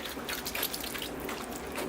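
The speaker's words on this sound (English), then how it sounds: "Okay, it's time to water the tree." Water is poured onto a potted hemlock bonsai, giving a soft, steady trickle and patter of drips into the soil for a couple of seconds, close and fairly quiet with no talk.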